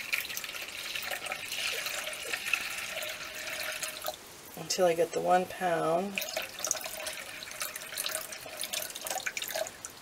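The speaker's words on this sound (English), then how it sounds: "So I'm going to pour water in here." Water poured into a container to mix plaster for push molds, a trickling, splashing stream running under a man's speech, which briefly rises over it in the middle.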